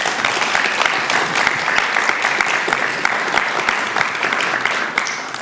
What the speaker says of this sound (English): Again, a warm applause.